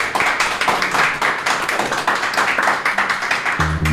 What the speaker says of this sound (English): Let's give our panel an applause.